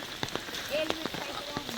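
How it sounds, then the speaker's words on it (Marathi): Heavy monsoon rain pours steadily on a hill-station viewpoint trail in Mahabaleshwar, a dense close hiss with scattered patters. It carries no clear voices. "इतका पाऊस पडतोय मित्रांनो"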